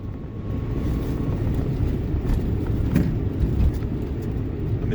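An EV-swapped Geo Metro accelerates onto a highway on-ramp, giving a steady low road and motor rumble with wind and tire noise that holds even throughout, no voices.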